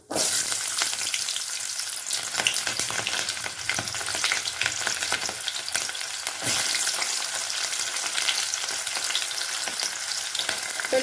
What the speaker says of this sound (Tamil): ஆயில் சூடாகட்டும் கடுகு உளுந்து சேர்த்து கொஞ்சம் சின்ன வெங்காயம் கொஞ்சம்